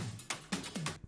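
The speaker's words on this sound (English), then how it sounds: "I found this percussion fill" A chopped percussion fill from a music production plays alone as a few short, punchy, separated hits with a low thump and bright rattling tops, stuttering unevenly over about a second.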